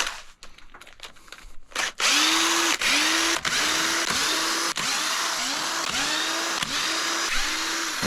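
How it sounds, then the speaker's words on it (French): A power drill fitted with an extension and a 10 mm socket runs in repeated short bursts, loosening screws while dismantling an engine, loud and close with a rising whine at each start. "une petite rallonge avec une douille de 10 sur la perceuse"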